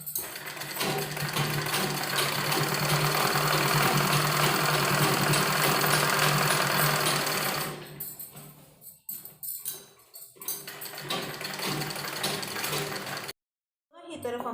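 Sewing machine stitching a trouser, a loud continuous mechanical whirr for about seven seconds, then short stop-start bursts of stitching, a brief silence and a final burst.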